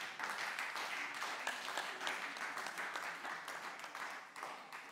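A church congregation applauding in acclamation of the Lord at a prophetic worship service, giving sustained dense clapping heard from a moderate distance that holds steady and then eases slightly near the end.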